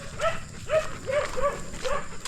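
Stray dogs bark out in a rural field, a series of evenly spaced yelps at a moderate distance over a light outdoor background.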